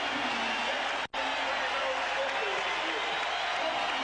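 A large basketball arena crowd roars continuously, a dense wall of cheering and noise with one brief dropout near the start.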